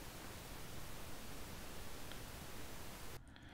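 Steady synthesizer noise with a darker, pink-like tone, broadband and continuous for about three seconds before abruptly dropping to a quieter, duller hiss.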